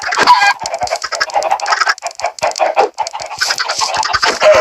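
A crowd of chickens clucks and squawks close by, busy overlapping calls with scratchy rustling, loud and continuous.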